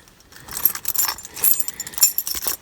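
A Subaru's car keys jangle and clink in the ignition as it is switched on, with a few bright metallic rattles in quick bursts, close up and with no one speaking.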